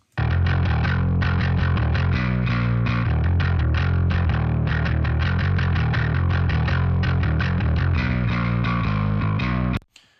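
A bass guitar plays a continuous riff through a distorted bass amp on its dirt setting, gritty, loud and alone, then cuts off sharply at the end.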